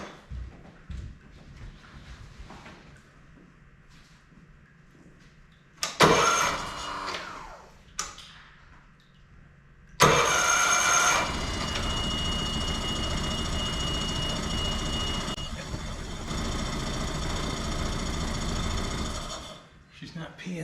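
A 2010 Mercury 20hp four-stroke outboard cranks with a brief burst, then starts and runs with a steady close mechanical drone for several seconds before shutting off. Quiet talk is heard before it starts.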